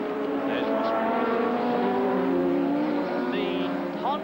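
A Honda-engined Formula 1 car from the 1985 Belgian Grand Prix drones past in the wet, its steady high engine note running continuously beneath race commentary.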